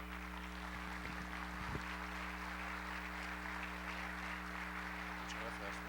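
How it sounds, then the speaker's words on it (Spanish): A hall audience gives a welcoming round of applause for Father Miguel Carmena, heard as faint, steady, distant clapping over a constant low electrical hum. "recibir con un muy fuerte aplauso al padre Miguel Carmena"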